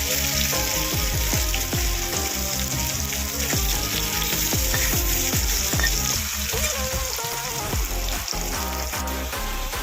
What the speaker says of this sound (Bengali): এবার আমি পাতলা পাতলা করে কেটে রাখা আলুগুলোকে এবার ভাজবো